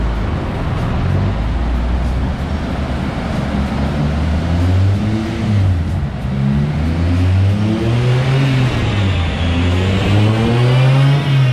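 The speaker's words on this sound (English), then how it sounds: "We managed to get it working on the rollers, but it's now spinning the tyres up." A K24-engined Honda Civic EG race car on dyno rollers, with its tyres spinning, revs loud and close, a throaty engine roar that rises and swells in repeated climbing sweeps.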